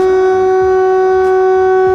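A civil defense air raid siren in a game, a loud steady sustained tone with strong harmonics holding evenly throughout, with no voices.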